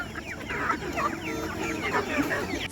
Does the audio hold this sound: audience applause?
no